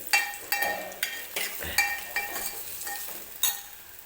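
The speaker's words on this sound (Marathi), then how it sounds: "ते एक चमचा कूट टाकणार आहे याच्यामध्ये आणि परत व्यवस्थित मिक्स करून घेणार आहे" A spoon stirs ground coconut and garlic into a yogurt kadhi, tapping and scraping the pot in a loose rhythm of clinks over a faint background sizzle.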